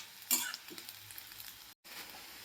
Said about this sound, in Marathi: पूर्णपणे ब्राऊन असं फ्राय करून घ्यायचं आहे